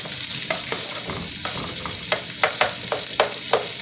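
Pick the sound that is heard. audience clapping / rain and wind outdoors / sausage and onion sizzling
sausage and onion sizzling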